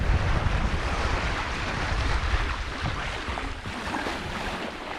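A yacht under full sail at sea off Scotland's west coast, with a constant rush of waves and wind buffeting the microphone. The roar stays loud and broadband throughout and no voices are heard.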